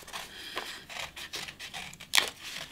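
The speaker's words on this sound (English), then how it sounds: "Let's just quickly cut those out." Scissors snipping out paper ears for a headband craft, a few quick light cutting and rustling sounds close by, with one sharper snip near the end.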